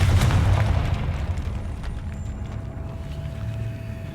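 Confringo blasting spell explosion in the Hogwarts Legacy video game: a deep booming blast at the start that rolls into a low, rumbling decay beneath steady game ambience, with no talking.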